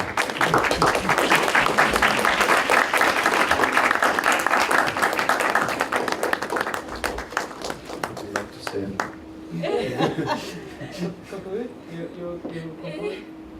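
At the close of a university symposium, an audience's sustained applause for the student organizers rolls on loudly at first, then thins into scattered claps and fades. A voice talks as the clapping dies away.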